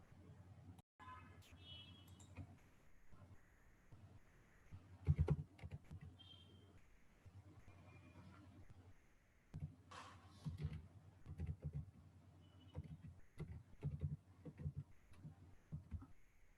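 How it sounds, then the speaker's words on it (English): Keys clatter on a computer keyboard while an online registration form is filled in, faint bursts of quick tapping with pauses between, quiet and close. "I shall now begin to fill the field"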